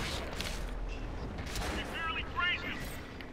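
A tank cannon firing in the video game World of Tanks, a muffled shot amid low rumbling battle noise with a brief mechanical whine after it, fairly faint overall.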